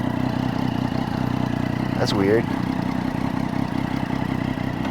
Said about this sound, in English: Wow, she idles low now.